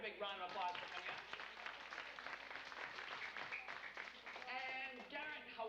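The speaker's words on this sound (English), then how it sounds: "let's give Garrett a big round of applause for coming up" At a live stage magic show, the audience claps for a young volunteer, steady applause running beneath voices talking and calling out over it.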